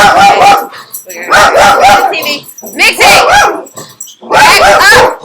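A dog barks in loud, excited bursts up close, with a person shouting over the barking.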